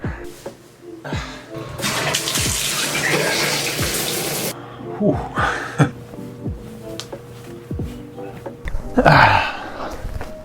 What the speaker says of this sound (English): take a very cold shower, as cold as it'll go